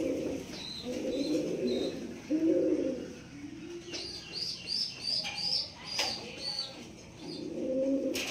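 Pigeons at a pigeon farm coo in low, throaty bursts that repeat every second or so, joined by higher chirps and tweets from other birds nearby, with soft flutter and no speech.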